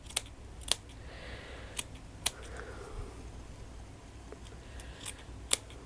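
Scissors cutting out doily butterfly pieces, a few quiet, sparse snips and crisp clicks over a faint room hum.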